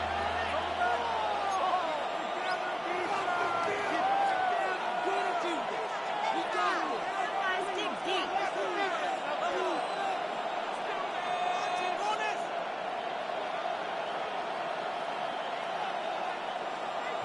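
Steady crowd noise fills a football stadium during a Vikings versus Lions game before a third down, a continuous broad roar with scattered whoops and a commentator's voice talking over it throughout.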